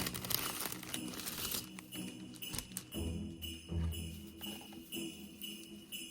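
Artificial tree branches being bent and glued onto a champagne bottle for a DIY Christmas tree kit, heard as continuous close crinkling and rustling with a few light clicks and taps.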